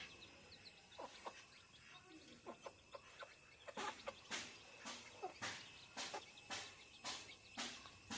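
Sonali-breed chickens give a series of short, repeated clucks at moderate distance, growing more regular in the second half, over a steady outdoor bed of insects and crickets.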